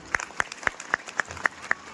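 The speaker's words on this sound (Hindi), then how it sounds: "अगर सहमत हो तो एक बार ताली बजा दीजिए आप लोग" One pair of hands clapping at a Ramlila gathering, eight sharp, evenly spaced claps about a quarter second apart, fairly close and alone over a quiet background.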